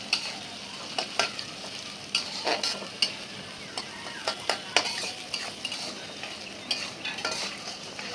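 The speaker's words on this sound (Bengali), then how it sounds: "ভালো করে আবার নেড়ে চেড়ে তেলের সাথে মিশিয়ে নিব। একটু ভাজা নেই।" Green and red capsicum stir-fried in hot oil, a steady close sizzle broken by repeated scrapes and clicks of a spatula stirring against the pan, with no voices.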